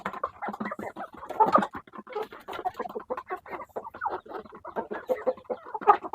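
Chickens and a rooster cluck and chatter steadily at feeding time in a backyard breeder yard, a close, busy flock of overlapping calls with louder bursts now and then.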